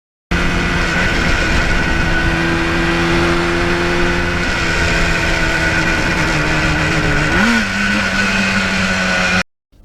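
A Yamaha RD400 motorcycle rides at a steady, loud engine drone, then the pitch dips and climbs around a gear change near the end, with wind noise throughout and no talking.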